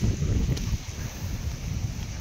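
Steady gusty wind roars across the microphone on a walk near a night market in Phnom Penh, Cambodia, before rain, a dense low rumble with no voices, constant throughout.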